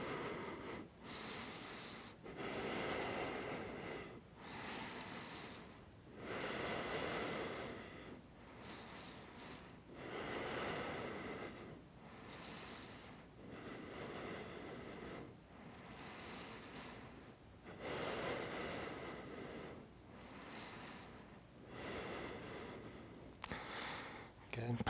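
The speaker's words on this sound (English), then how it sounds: "A few deep breaths here." Deep slow breaths during a yoga pose come in a calm, regular rhythm of long inhales and exhales, each lasting a few seconds, close and soft, with no speech.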